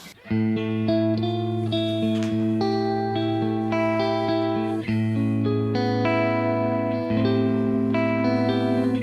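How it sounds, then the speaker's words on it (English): Distorted electric guitar chords swirl with a flanging effect, from a Keeley Halo tone recreated on a Kemper Profiler, played in sustained, evenly spaced phrases, loud and with no talk. "Getting some flanging tones."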